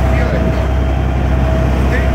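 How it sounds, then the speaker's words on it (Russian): Boat engine running during break-in on a vessel near Hawaii, a loud steady droning hum with a constant low tone and no pauses. "Обкатаем двигатель."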